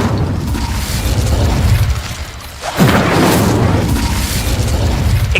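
Incendio fire spell cast in Hogwarts Legacy, a loud booming burst of flame with a rushing roar, briefly dipping then surging again into a second sustained blast.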